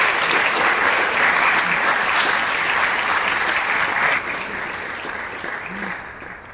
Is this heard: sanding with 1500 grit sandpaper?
no